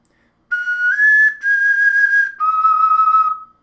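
A handmade ocarina, tested while still being made, plays three clear, sustained whistle-like notes in succession. The notes are loud and pure, with brief breaths between them and no talking.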